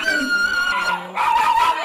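A dog barks and yips close by in a home, two quick bursts with whining tones, loud against a quiet background.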